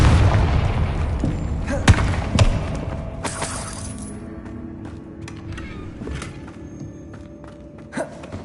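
A Confringo blast spell from the game Hogwarts Legacy bursts with a deep boom, followed by crackling debris, a second thud and a gradually fading rumble with a small late impact.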